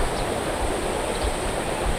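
River stream flowing beside a campsite in Bandung, a constant broad rush of water, steady and fairly loud with no voices over it.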